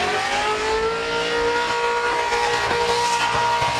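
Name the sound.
Ken Oath car engine revving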